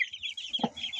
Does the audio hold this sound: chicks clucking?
yes